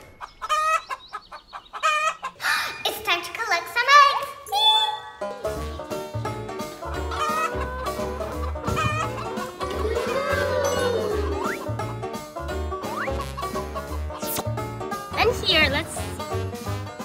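Chicks peep and hens cluck over a busy, music-like background, with a brief crow-like call early on; the sounds stay close and fairly loud throughout.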